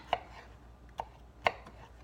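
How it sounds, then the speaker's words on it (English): A knife chops a honeydew melon into cubes on a cutting board: three sharp, close chops spaced about half a second to a second apart, with quiet pauses between. "So cut it down into slices, and then I cut it in half again"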